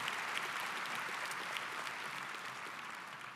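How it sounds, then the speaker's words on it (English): Steady applause from a large audience at a high school commencement ceremony, a dense, even wash of clapping that holds throughout without talk. "let's give a big round of applause for 99 years of operation"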